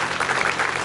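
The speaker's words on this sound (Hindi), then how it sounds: "इनके लिए तालियां जोर से हो जाए" An audience claps steadily at a motivational talk, a dense, continuous wash of hands that holds at an even level for under a second.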